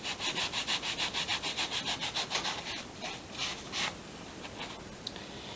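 The dry side of a cloth buffs a leather shoe to take off excess conditioner. Quick rhythmic rubbing strokes come close up, then slow into a few longer, looser swipes, with no voices.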